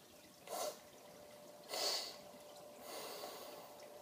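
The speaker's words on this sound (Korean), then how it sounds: "제 숨소리가 잘 들리세요?" Nasal breathing after a nasal spray: three soft, close sniffing inhalations through the nose, evenly spaced about a second apart, in an otherwise quiet room.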